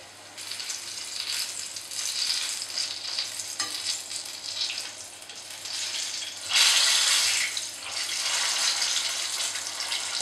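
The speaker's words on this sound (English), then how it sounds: "Fry them until they're golden brown." Viennese Laundry Girls pastries fry in hot oil, giving a continuous close hiss and bubbling that swells louder partway through, with no talking.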